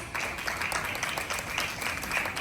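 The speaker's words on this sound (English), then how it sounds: "Please give him a huge round of applause." A crowd applauding steadily at a school investiture ceremony, dense clapping that holds at an even level throughout without talk.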